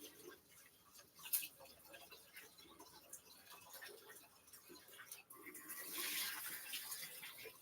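Running tap water pours over rice while it is being rinsed in a pot, a soft, faint splashing with small ticks and rattles that swells into a louder gush toward the end, with no speech.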